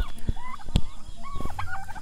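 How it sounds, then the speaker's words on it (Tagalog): Turkeys gobble and warble nearby in short bursts, mixed with a few sharp knocks and rustling in the background. "Ito naman yung mga pabo."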